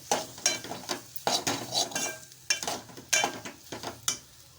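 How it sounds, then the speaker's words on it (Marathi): Spiced potato filling for patties being stirred in a pan, with repeated close scraping and clanking of a spoon against metal in an uneven rhythm over a light sizzle, with no talking. "आता मिश्रण छान मी एकजीव करून घेत आहे"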